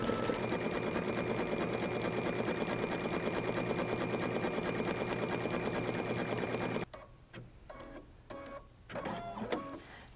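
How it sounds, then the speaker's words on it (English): Embroidery machine stitching a patriotic puff foam design, a steady loud rapid mechanical chatter that runs continuously, then stops abruptly and gives way to quieter intermittent clicks and short bursts. "So let's go ahead and stitch this out."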